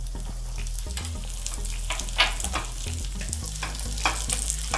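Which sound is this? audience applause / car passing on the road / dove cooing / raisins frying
raisins frying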